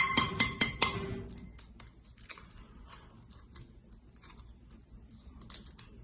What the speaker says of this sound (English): let's go ahead and peel our egg